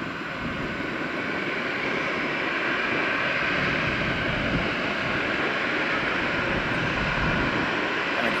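A Southwest airliner and a United airliner taxi at Tampa airport at sunrise, their jet engines giving a steady, loud, broad roar that holds unchanged throughout, with no voices.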